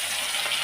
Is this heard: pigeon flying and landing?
no